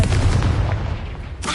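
A fire spell from the video game Hogwarts Legacy detonates in a loud, close, booming blast that rumbles on, with a second sharp burst just before the end.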